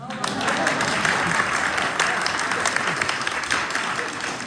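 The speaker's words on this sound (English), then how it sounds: "Y'all can clap right there." Audience applause fills a veterans ball dinner hall, a dense, steady wash of clapping that holds at an even level for the full stretch, with some crowd voices mixed in.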